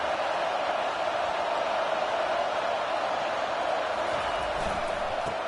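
Steady, dense roar of a stadium crowd in a Madden football video game, filling the background evenly throughout without any distinct peaks.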